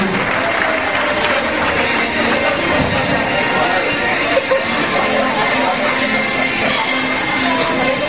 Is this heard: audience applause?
yes